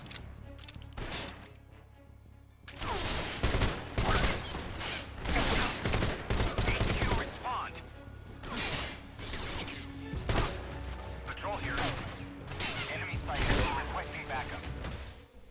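Gunfire while shooting enemies in Metal Gear Solid Delta: Snake Eater, with repeated bursts of shots and impacts amid mechanical clatter throughout a fight, as a voice talks over much of it.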